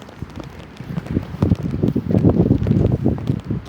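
Wind gusting through a palace garden on a cold morning, a steady low rushing and buffeting that swells and eases in uneven gusts close to the microphone, with no talk.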